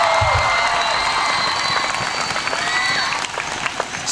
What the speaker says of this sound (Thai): ฝรั่งปรบมือกันเต็มเลยเว้ย